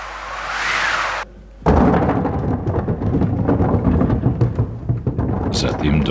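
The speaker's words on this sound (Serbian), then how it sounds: "Ovo je staro akustičko sredstvo i ono oponaša zvuk vetra." An old theatre wind machine gives a brief rising and falling whoosh, then cuts off. Dense low rumbling and clattering follow, with a voice speaking over it.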